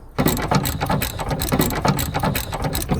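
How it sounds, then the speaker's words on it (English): Ratchet wrench undoing a 14mm gearbox mount bolt on a Toyota Auris, a fast, regular clicking repeated close up. "Gonna remove the center bolt first. It's a 14mm."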